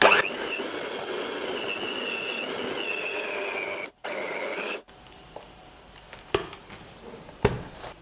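A mixer beating eclair choux dough after the last of four eggs is added runs steadily and loudly for about five seconds, then stops, leaving faint clatter and a couple of light knocks.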